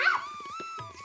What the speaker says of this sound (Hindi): डॉगी भी भौंक रहा है मगर फिर भी नहीं डर रहे लोग।